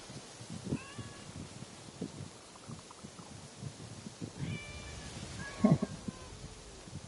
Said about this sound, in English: one more pet for the kitty on stream.